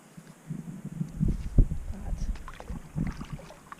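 Wind gusts blow across a lake around a canoe, rising and falling in soft low rushes with faint paddle or hull knocks, no talk.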